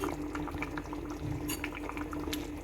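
A pot of fish curry made with kodampuli bubbles and simmers with a steady, close, soft gurgling and faint clinks of utensils, without any speech.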